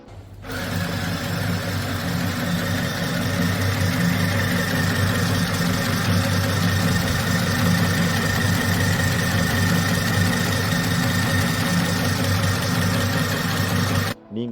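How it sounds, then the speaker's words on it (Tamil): A Chillaxplus mini sewing machine winds thread onto its bobbin with a steady, close motor whir that holds an even drone for about fourteen seconds before stopping. "ஸ்டார்ட் பட்டனை அழுத்தவும் பாபின் சுழல தொடங்கும் நூல் நிரம்பத் தொடங்கும்"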